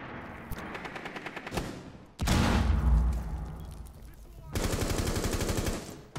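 Video game gunfire with rapid machine-gun bursts of evenly spaced shots, a heavy booming impact in the middle, then another fast rattling burst near the end, all close and loud.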